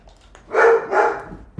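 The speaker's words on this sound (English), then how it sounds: "Hey, no barks." A dog indoors gives two close, loud barks in quick succession, then a brief pause.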